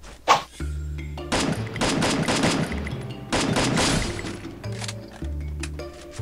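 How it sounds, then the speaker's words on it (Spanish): Suppressed gunfire in the Free Fire mobile game, muffled repeated shots and thunks in two clusters, fairly quiet with game effects between the bursts. "me está disparando alguien con silenciador"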